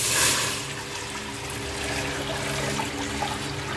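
Boiled guava-peel water poured into a cooking pot for homemade guava jelly, a steady close splashing pour that starts strong and continues as an even running liquid sound.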